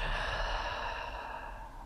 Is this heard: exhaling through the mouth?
yes